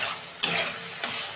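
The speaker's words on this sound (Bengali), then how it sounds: "এই যে মাছের ঝোলটায় আমি কারি পাতা দিচ্ছি" Curry leaves dropped into a simmering fish curry set off a bright, hissing sizzle that flares suddenly and then settles into a steady crackle, with a second smaller flare toward the end.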